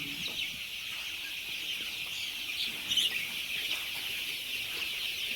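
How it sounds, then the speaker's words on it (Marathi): A crowded flock of 20-day-old desi gavran chickens in a poultry compartment makes a constant, faint, high chorus of cheeps and clucks, steady throughout with one slightly louder burst midway. "पाहू शकता, 20 दिवसाचे पक्षी आहेत"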